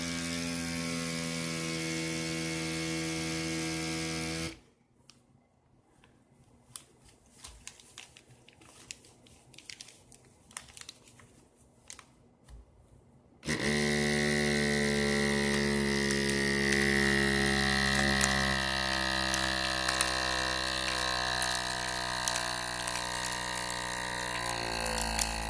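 A small handheld vacuum pump draws air out through a hole, giving a loud steady mechanical whir, then cuts to a quiet gap of faint clicks before the droning pump resumes, strained and buzzing, until the end.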